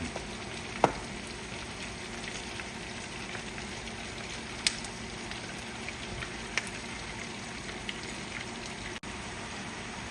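Chicken fries with cooked onions in a pan for afritada, a soft continuous sizzle with a few sharp clinks and taps scattered through, fairly quiet and close.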